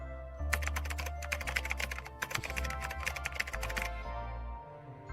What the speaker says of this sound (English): I thought that was actually Frankie typing again for like half a second.